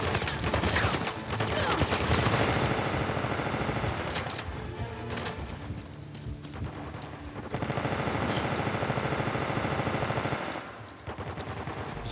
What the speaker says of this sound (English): Got very powerful guns